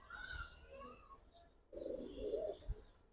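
Soft, low cooing from a large pair of Indian Kaldam pigeons, heard in two short bursts with a pause between, moderately close and not loud, with no talking over it.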